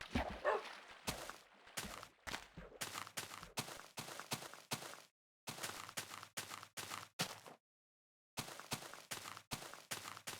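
Dog companion Wolfie barks in a video game, with repeated short, sharp yaps in quick bursts that are separated by brief silent gaps.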